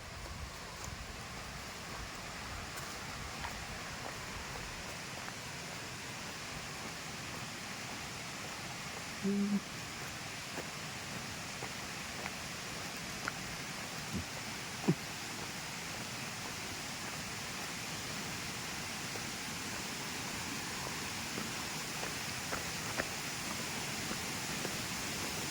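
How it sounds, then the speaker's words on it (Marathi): A small stream of water spills down from above beside a forest trail in monsoon rain, giving a steady, broadband rushing wash that holds evenly throughout with no talk. "हा बघा, हा इकडे छोटासा धबधबा आहे वरून आलेला"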